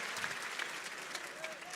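Spectators at an esports match, a Counter-Strike playoff at ESL One Katowice 2015, applaud and cheer steadily, a hiss of many hands clapping heard at a moderate distance, with no talk on top.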